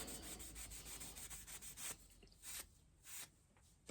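A swaged .177 airgun slug is rubbed briskly with 3M cloth, giving a series of quick, quiet, close scratchy strokes that thin out into a few separate rubs.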